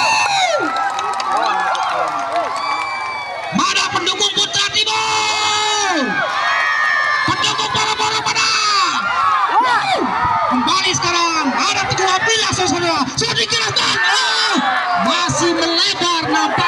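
Loud crowd cheering and shouting at a mini soccer grand final, with whoops and children's yells rising and falling over a constant din while an announcer talks over the noise.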